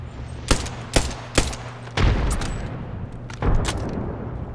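Video game gunfire in a multiplayer shooter: several sharp, loud shots spaced about half a second apart, then heavier booming bursts and rattling fire continuing to the end.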